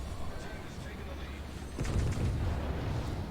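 Secondary guns of the Russian battleship Pyotr Velikiy firing in World of Warships, a faint rumbling barrage of distant cannon blasts under a continuous low battle din that swells partway through.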